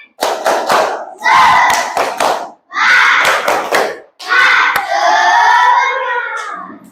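A classroom group claps in rhythmic patterns together with children chanting "Tepuk semangat" in unison, in several loud bursts separated by short pauses.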